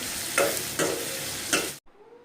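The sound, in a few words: onions and ginger garlic frying in a pan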